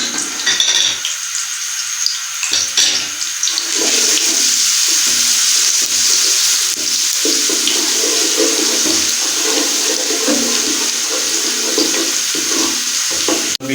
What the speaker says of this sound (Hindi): तो सबसे पहले हम इसमें लहसुन डालेंगे। लहसुन को मामूली हम ब्राउन करेंगे।